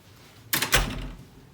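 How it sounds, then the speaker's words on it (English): Two quick knocks on a patient's door, close and clear, sound in an otherwise quiet room with no talking. "First, you would start by knocking on the patient's door."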